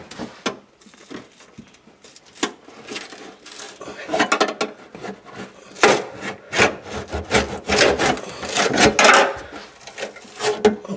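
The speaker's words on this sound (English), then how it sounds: "So I'll get a putty knife, get that loose." A putty knife pries and scrapes at the fuel pump lock ring under the access panel of a 2001 Buick Park Avenue. Close, irregular bursts of scraping, rubbing and metallic clicks build in intensity, with no talking.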